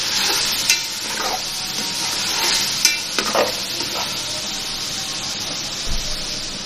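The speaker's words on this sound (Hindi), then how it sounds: "थोड़ा सा भूनेंगे।" Ingredients for chicken pulao frying in a pan, with a steady sizzling hiss, a few soft scrapes of stirring and a low bump near the end, no talking.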